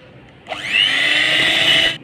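Electric hand beater whirring steadily as it whips brownie batter with a cocoa powder and flour mixture added bit by bit, a loud continuous motor drone starting abruptly and holding for about a second and a half.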